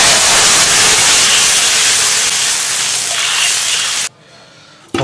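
Water poured into a wok of hot bubbling caramelised sugar for braising pork, a loud sustained hiss of steam for about four seconds that cuts off sharply, then brief quiet.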